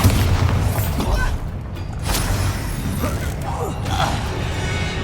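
A Bombarda spell blast in Hogwarts Legacy, a heavy booming explosion with crashing, creaking debris amid continuous loud game noise, with a voice speaking over it.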